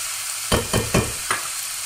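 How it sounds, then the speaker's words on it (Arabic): Chicken is stir-fried with garlic and caramelized sugar in a sizzling pan, with four sharp bursts of tossing and scraping over a steady close fry. "الفراخ تتشوح مع التومة مع الكرملة بتاعت السكر"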